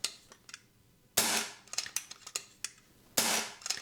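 Two sharp, loud FX air rifle shots ring out about two seconds apart after a regulator adjustment, each followed by a short fading ring, with smaller clicks and handling noises in between.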